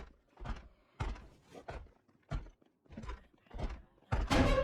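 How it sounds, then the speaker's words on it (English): A zombie bangs on a door in Project Zomboid, seven or eight dull, evenly spaced thuds close by, then a louder crashing hit at the end. "I hear a banging on a door, so which door is the zombie hiding behind?"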